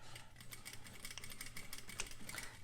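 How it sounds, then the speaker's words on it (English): A sewing machine runs a back stitch on graduated release tucks, its needle tapping out a steady, fairly quiet mechanical patter close by with no talking. "I'm going to start with a back stitch."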